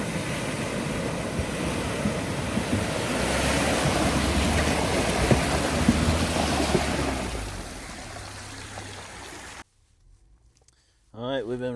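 Water rushing in a small stream at a road crossing in a national forest, a broad steady wash that fades before a short quiet gap, then a voice begins talking.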